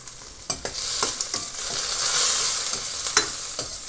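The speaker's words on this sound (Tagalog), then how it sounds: "Lagay na natin yung hipon." Shrimp tossed into a hot frying pan while pansit is stir-fried, a steady close sizzle with a few sharp utensil scrapes and clacks against the pan, no voices.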